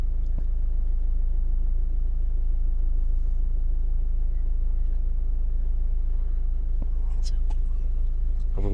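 A car's engine holds a steady low rumble as the clutch is eased out to move in reverse, a continuous close drone with occasional faint clicks and a voice talking over it.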